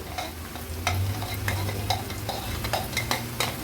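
Green paste sizzles among fried onions in a pan for Irani-style green mutton kheema, a constant frying hiss punctuated by regular spatula scrapes and taps, close up and without speech.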